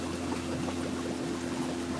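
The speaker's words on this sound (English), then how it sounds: "We're gonna get some water in from our vat." Water poured from a fish vat into a tub of live tropical fish during seining, a steady close-up splashing pour with a constant low pump or motor hum running underneath throughout.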